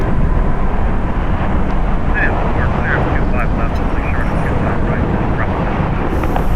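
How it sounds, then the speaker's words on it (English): JetBlue Airbus A320 departing LAX, a loud, steady, broad jet roar with wind buffeting the microphone, continuous throughout, with faint voices underneath. "Departing is JetBlue Airways 94-2, going to Reno. It's an Airbus A320, 18 years old."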